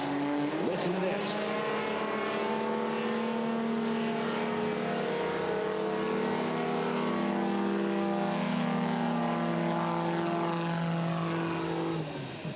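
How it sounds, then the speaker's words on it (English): Two Just Aircraft Highlander STOL planes with Yamaha Apex engines drag racing at an air race in Roswell, New Mexico, their steady droning engines and propellers running loud and continuous throughout, with layered harmonic tones. "both running Yamaha engines, both in Just Aircraft Highlander. On the arm drop. 3, 2, 1. See ya. Listen to this."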